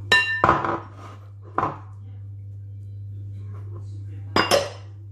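A spoon clinking and scraping against a bowl while mixing butter and sugar for cookie dough, in a few short bursts separated by quiet pauses, heard up close.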